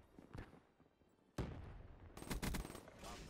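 Rapid-fire video game gunfire crackles in dense bursts, quieter at first, then a loud sustained barrage from about the middle onward with sharp repeated shots layered over background game noise.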